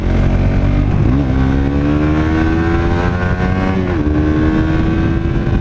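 A Suzuki GSX-S 125 motorcycle engine revs hard and loud, its pitch climbing steadily through two gear shifts toward top speed, heard close and continuous.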